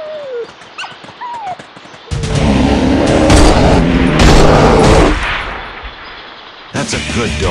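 A hunting dog in Deer Hunter 2018 barks in a loud, dense run of yips and barks mixed with gunfire-like bursts, after a quieter opening with short whines.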